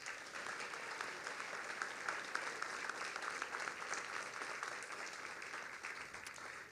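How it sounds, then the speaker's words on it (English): A seated audience at a firefighter recruit graduation ceremony claps in steady, even applause, a dense patter heard from within the hall for several seconds. "Let's give the recipients another round of applause."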